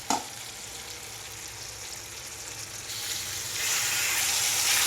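Brinjal tipped into softened frying tomatoes in a pan, a brief thump at the start and then a continuous close sizzle that swells louder over the last seconds.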